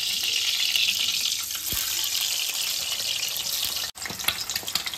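An egg fries in a pan with little oil for egg chowmein, giving a loud, continuous close-up sizzle and hiss, briefly interrupted near the end before resuming with a few small pops.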